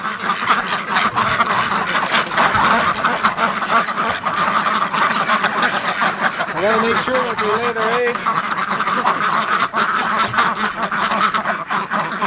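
Ducks quack in a gravel pen during morning egg collection, a cluster of calls standing out midway beneath near, steady talk by a person.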